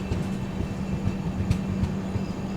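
Mahabodhi Express passenger train rolling along after leaving Kundra station, a steady rumbling run with faint rhythmic clicks from the wheels, heard from inside the carriage.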